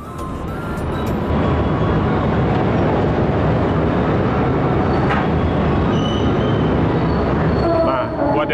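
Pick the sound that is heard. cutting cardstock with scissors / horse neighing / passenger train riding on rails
passenger train riding on rails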